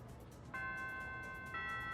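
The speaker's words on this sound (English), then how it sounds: "The first bell has rung." A school bell in the Persona 3 Reload game rings out as a sustained bright chime, with tones entering at about half a second and a second layer joining a second later, ringing steadily at moderate volume.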